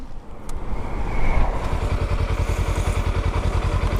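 Kawasaki Versys X300 motorcycle that has broken down, engine cranking and trying to catch, giving a loud close rhythmic chugging pulse that builds and keeps going, with rattling mechanical noise and no clear talk.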